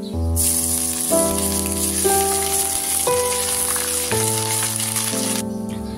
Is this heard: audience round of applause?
no